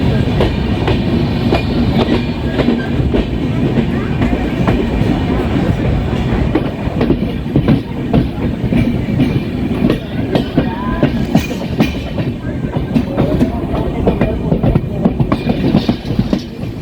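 A passenger train runs on rails in the rainy season, with a loud, steady rumble and rhythmic clickety-clack of the cars heard from inside, close and continuous throughout.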